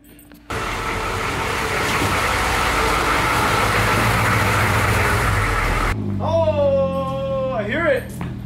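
Humvee engine running at idle, a steady loud low rumble that starts abruptly after a brief pause and then cuts to quieter idling while a person talks over it near the end.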